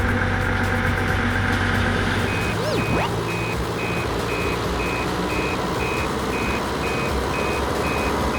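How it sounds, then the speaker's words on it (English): A sand-hauling dump truck backs up as its reversing alarm starts up partway through and repeats in evenly spaced high beeps over a continuous loud engine rumble. "Sand truck, a dump truck that carries sand to construction sites."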